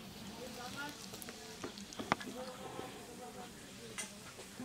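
Ground chilli going into hot oil, a crackling sizzle with scattered pops and stirring clatter, fairly quiet, and a voice talking underneath.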